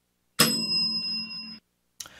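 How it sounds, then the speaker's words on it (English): A podcast's tabletop service bell is struck once, giving a bright, close ding that rings out for about a second before being cut off, followed shortly by a second brief strike. "we'll redo the bell in a second"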